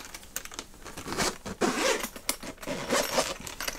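Zippers being opened on a sturdy chromatic harmonica case for a Seydel Volcany, with several short rasping pulls and jangly clicks of the pulls, close and fairly loud.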